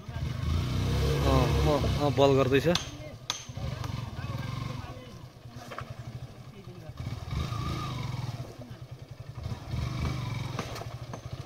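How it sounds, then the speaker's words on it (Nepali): A motorcycle is wheeled out and started on a steep uphill village track in Nepal. A close engine burst revs and rattles briefly before settling into uneven rumbling, while someone speaks over it. "केटोले बाइक निकाल्दैछ भाइले"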